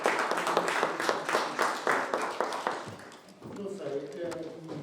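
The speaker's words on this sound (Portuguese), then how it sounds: "Devo dar uma salva de palmas." Seminar audience applauding at a political science talk, dense clapping at first that thins and fades after a few seconds as a voice begins speaking over the tail.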